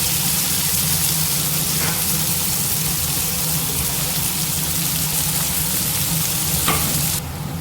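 Chopped onion fries in hot oil with popped mustard and fennel seeds for a prawn thokku, giving a loud, continuous close-up sizzle with occasional faint stirring scrapes.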